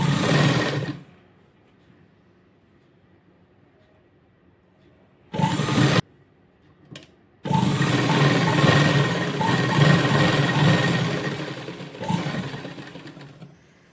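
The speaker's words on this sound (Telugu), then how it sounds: "అప్పుడు కుట్టడం అనేది స్టార్ట్ చేయాలి" A sewing machine stitches a V-neck on a frock, loud and close, with a short whirring run, a pause, a brief burst, then a long continuous stretch of steady stitching.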